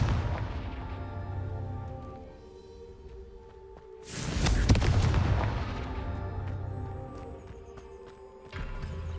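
Confringo spell blasts in Hogwarts Legacy erupt as a loud, close boom with a long crackling tail, followed by a second burst near the end, laid over an ongoing musical game soundtrack.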